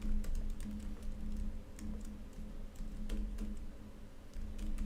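Rapid, irregular keystrokes on a computer keyboard, close and fairly quiet, clicking steadily with no talking.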